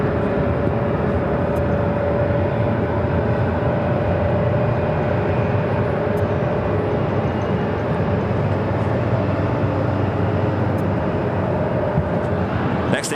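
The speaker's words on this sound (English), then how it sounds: "Takeoff is Alaska Airlines Flight 731 heading to Everett, Payne Field on a 737-900 ER" An Alaska Airlines Boeing 737-900ER takes off at Phoenix Sky Harbor airport, a loud, steady broadband jet engine roar holding for the whole stretch without a break.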